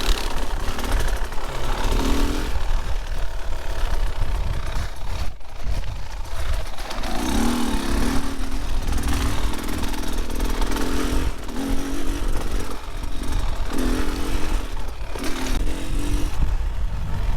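A Beta 2024 Xtrainer 300 two-stroke dirt bike engine runs loud and close throughout, with a continuous buzzing drone and repeated rises and dips in pitch as the throttle opens and eases off.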